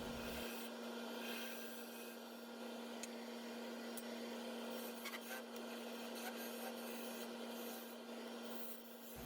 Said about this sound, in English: This is the Carter & Son parting tool. Using it to establish the mortise.